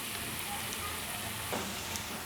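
Sliced chilies fry in a pan for quick noodles, giving a steady, close sizzle that holds evenly throughout with a faint scrape near the end.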